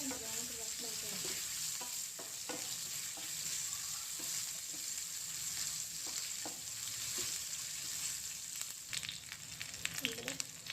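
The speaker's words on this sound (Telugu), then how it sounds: "కట్ చేసుకున్న చిన్న ఉల్లిగడ్డలు బ్రౌన్గా బాగా వేగనివ్వాలి రసంలోకి" Small chopped onions frying in hot oil for coriander rasam, a steady close sizzle with occasional stirring scrapes throughout, no talking.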